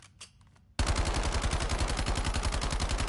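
Gunfire in the Black Ops 7 multiplayer video game on PS5: after a brief quiet spell, a weapon opens up in a loud, sustained, rapid automatic burst.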